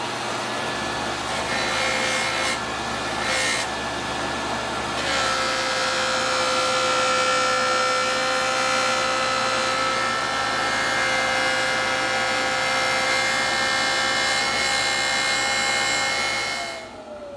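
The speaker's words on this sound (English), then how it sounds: "Going to apply a liberal amount of the polishing compound and then work it on my" A JoolTool rotary polisher with a felt buff works polishing compound into a piece, a steady loud motor whine with a constant rubbing hiss throughout, winding down at the end.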